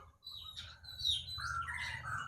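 A young forest-caught white-rumped shama (murai) sings a varied run of bright whistles and chirps with rising and falling phrases, fairly close, over a low background hum.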